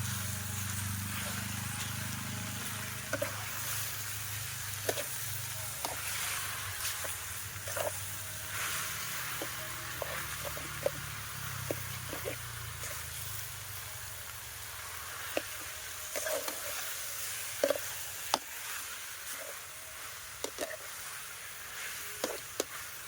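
Mixed mushrooms stir-frying in a pan, a continuous low sizzle broken by scattered sharp clicks and scrapes of a utensil against the pan.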